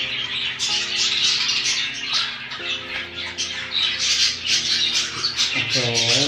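African lovebirds in a cage or aviary giving a dense, loud chorus of shrill squawks and chirps, with harsh repeated calls throughout and a brief low-pitched background tone underneath.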